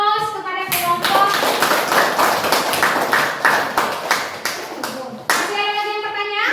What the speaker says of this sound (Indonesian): Silakan berikan aplaus kepada kelompok.